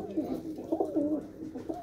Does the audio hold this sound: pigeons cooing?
yes